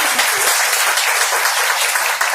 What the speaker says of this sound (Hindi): तो इस बात के लिए जोरदार ताली